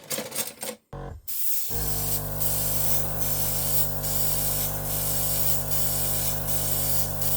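An airbrush powered by a Gaahleri Turbo X compressor sprays paint while testing on a spoon, with a short burst and a brief pause, then a steady close hiss over the compressor's low hum, pulsing softly.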